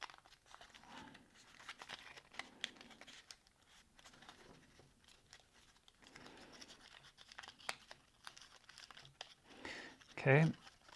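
Sheets of paper being creased and folded into a stingray-style paper plane, with soft crinkling and scraping rustles scattered across the span and one louder crumpling burst near the end, heard close up under quiet background noise.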